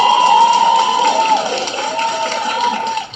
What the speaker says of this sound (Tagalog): maraming palakpak si Kibulog ah